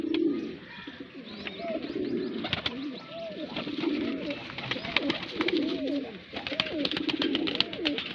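Red-eyed pigeons coo steadily in low, throaty rolling calls at a home loft in Bareilly, several birds overlapping close by, with faint chirps and clicks in the background.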